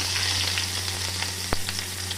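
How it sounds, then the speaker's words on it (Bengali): Onions fry in hot oil in a wok with a loud, constant sizzle, a few scraping stirs and one sharp knock, heard up close with no voices. "আর পেঁয়াজও দিয়ে দেবো।"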